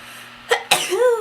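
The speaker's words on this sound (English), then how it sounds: "Hold on, I have to sneeze." One sharp human sneeze, preceded by a quick inhale and trailing into a brief voiced exhale, close and alone in a quiet room.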